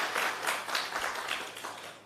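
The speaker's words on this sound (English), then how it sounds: "Can we give them another round of applause" Applause for two presenters at a national health research conference, a short burst of scattered clapping from a room audience, faint and fading.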